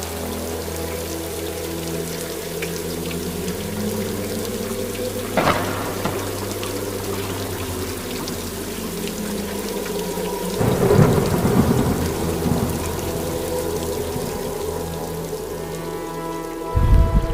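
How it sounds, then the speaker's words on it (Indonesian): Heavy rain pours steadily for the whole stretch while thunder rumbles and cracks twice, a sound-effect storm in an Indonesian horror radio drama, with no talk over it. "tiba-tiba awan menjadi gelap dan langsung turun hujan yang begitu deras"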